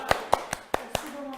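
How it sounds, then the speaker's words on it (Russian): Hand clapping: five sharp, evenly spaced claps close to the listener, followed by a faint voice at the end. "Я вам хлопаю."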